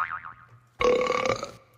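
A big, loud burp lasting under a second, deep and resonant, following a short stretch of quieter voiced sound.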